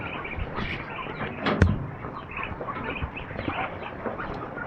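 A duck quacks a few times amid a noisy outdoor scene, with one sharper, louder call standing out briefly partway through.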